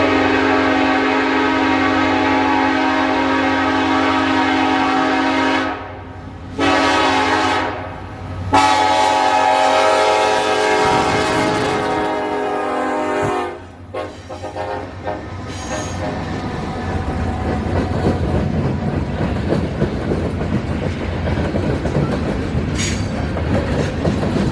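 Norfolk Southern northbound freight train pulling out of the siding at Aragon: long, loud horn blasts open, then give way to the steady rumble and clatter of railcars rolling past nearby.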